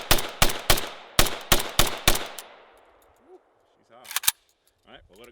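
A VSKA rifle fires eight sharp, loud shots in an irregular rapid string, each with a ringing decay, during a round-count endurance test, followed by a quiet pause and a few brief metallic clinks and faint voices.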